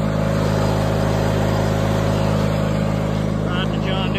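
A 1989 John Deere 316 riding tractor with an Onan 16HP 782cc engine runs at a steady, loud, continuous hum with strong low droning tones, close by, while someone talks briefly near the end.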